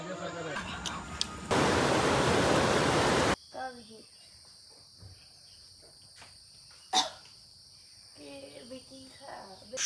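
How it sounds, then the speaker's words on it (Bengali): Crickets chirp in the hills at Dalgaon and Lower Jhalong, a steady high, shrill drone that runs continuously after a burst of broadband noise. Faint talk and brief knocks come and go beneath it. "বাহ, ঝিঝি পোকা কি জোরে ডাকছে দেখে"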